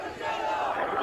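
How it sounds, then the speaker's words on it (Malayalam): A large crowd of protesters gathers at the Gandhi statue in Mananthavady, their massed voices roaring in a sustained, loud, unbroken wall of shouting. "ഇവിടെ വലിയ ജനക്കൂട്ടം ഇപ്പോൾ കുറെ സമയങ്ങളായി മാനന്തവാടി ഗാന്ധി പ്രതിമയ്ക്ക് പ്രതിഷേധിക്കുന്നു"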